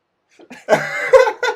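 A few short, close coughs that run into a voiced, laugh-like sputter, with brief pauses between bursts.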